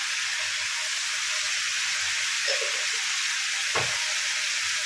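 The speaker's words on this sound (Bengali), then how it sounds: "দিয়ে এরকমভাবে নাড়িয়ে সবটা ভালো করে মিলিয়ে নিলাম।" Mixed vegetables sizzling in a pan, a steady soft hiss of frying with a few light scraping stirs and one brief clatter near the end, moderately quiet and without talk.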